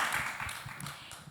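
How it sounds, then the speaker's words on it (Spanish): An audience breaks into brief spontaneous applause, a soft, fairly distant patter of many hands clapping that fades out within a second or so. "Salieron ahí los aplausos espontáneos."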